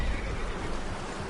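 A horse whinnies in Red Dead Redemption 2, a short, close neigh over steady game ambience with no talking.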